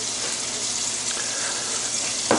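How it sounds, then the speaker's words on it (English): Salt pork sizzles in a hot pan, a steady crackling hiss with a brief clatter at the very end. "you may be able to hear sizzling in the background is the our salty bacon, salt pork"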